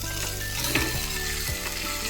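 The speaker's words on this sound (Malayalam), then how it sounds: "എന്നിട്ട് നല്ലോണം വഴറ്റി കൊടുക്കണം" Chopped ivy gourd sautéed with turmeric and salt sizzles in a pan, the steady frying hiss broken by scraping stirs and the clack of a spatula against metal, close and alone without talk.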